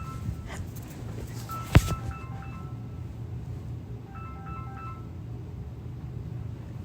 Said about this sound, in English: Sorry about my phone. Kind of interrupted it.